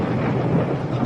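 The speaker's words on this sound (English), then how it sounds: "Did you have a storm out here?" Low, steady rumble of thunder during a storm, a continuous broadband roll sustained throughout with no clear peaks, fairly loud and without speech.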